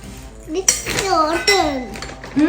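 A child mixing almond cookie ingredients in a bowl, with clinking spoon-on-bowl taps and scrapes under a child's and an adult's voices talking.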